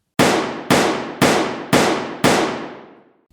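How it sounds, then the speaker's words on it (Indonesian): A revolver fires five shots in a row, each a loud sharp bang with a decaying tail, spaced about half a second apart and evenly paced, with no talk. "menembakkan 5 peluru berturut-turut"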